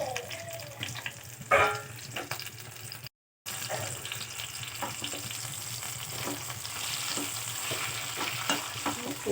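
Onions and tomato lightly sautéing in a pan for sambar, a steady soft sizzle with occasional stirring scrapes and a brief clatter near the start, continuing throughout after a momentary gap.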